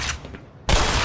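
Video game gunfire in Black Mesa, a sudden loud burst of shots cutting in after a quieter moment, close and harsh with no talk over it.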